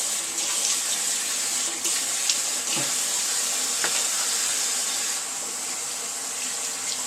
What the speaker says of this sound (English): I'm going to splash, excuse me for a moment while I splash the water and get this off my face